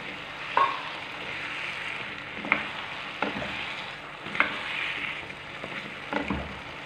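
Kabocha squash pieces frying with spices in a pan give off a steady, moderate sizzle. Several soft scraping stirs and clinks come through over it at close range, and no one speaks.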